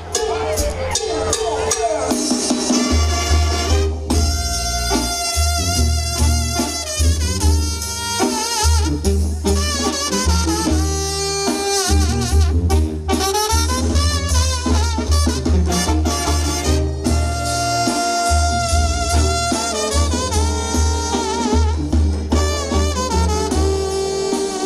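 A banda song plays loud and steady at a quinceañera party at a hacienda in Chichimequillas, Silao, with pulsing brass, tuba bass and drums throughout.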